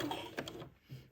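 Sewing machine zigzag stitching insertion lace onto a baby doll's wedding dress, a quiet, close, rapid mechanical whirring that pauses briefly and then starts again.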